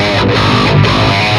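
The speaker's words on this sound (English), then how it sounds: "You can hear that pick attack right now" Distorted electric guitar through a Fortin Grind pedal with the treble rolled back, chugging with sharp, percussive pick attacks. The playing is loud and dense and stays close throughout this short burst, with no talking.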